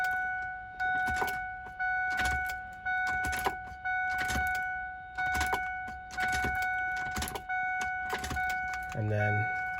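A car engine cranked over repeatedly after the fuel pump is primed, with several long starter bursts in a row, the last one catching before it fires up, close and fairly loud, with a steady electronic tone running underneath.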